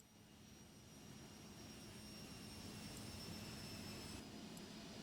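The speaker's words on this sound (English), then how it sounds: "But I don't want the engine sounds to drown me out." Epic E1000 turboprop aircraft engine in the X-Plane 11 flight simulator, a steady broadband whooshing roar with a faint high whine, gradually building slightly in level, heard alone at low volume.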